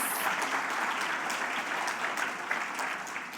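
An audience at an AI and education summit award ceremony gives the judges a full, sustained round of applause, a thick and even clapping that runs for more than three seconds.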